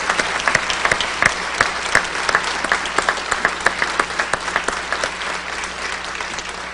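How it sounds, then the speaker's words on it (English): An audience at an NRA Ring of Freedom gathering applauds in a dense, steady round of clapping that holds at full strength throughout, with sharper individual claps standing out from the mass. "Let's give them a big round of applause."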